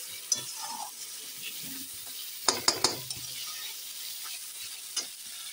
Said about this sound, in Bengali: মশলাটা এখন সুন্দর করে কষিয়ে নেব